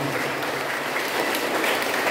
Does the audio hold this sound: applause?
yes